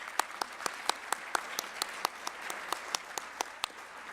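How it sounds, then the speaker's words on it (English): Audience applause at an evening regional educators awards and scholarship program, with sharp individual claps standing out in a steady rhythm over a softer wash of clapping, moderately near and without talk. "Please give yourselves a round of applause."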